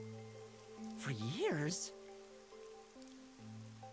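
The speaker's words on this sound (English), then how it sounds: "for the past few years, the rain in our town hasn't stopped falling" Steady rain falls in the video game Master Detective Archives: Rain Code, a soft wash under a short spoken line and low sustained musical tones.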